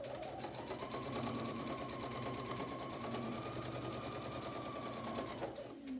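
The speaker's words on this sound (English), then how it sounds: "I'm going to stitch it in place" A sewing machine with a regular presser foot runs continuously as it stitches bias binding in place near the folded edge, a close, steady whirring hum with rapid needle ticking that stops abruptly at the end.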